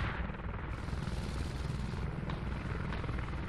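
A helicopter in a tactical military shooter game thrums with a loud, steady rotor roar that fills the whole stretch.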